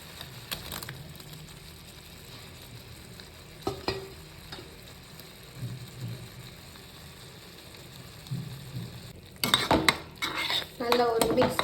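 Fried paneer is stirred into a butter masala gravy in a pan, a metal spoon scraping and clinking against the pan over a soft sizzle, with the clatter growing busier and louder toward the end.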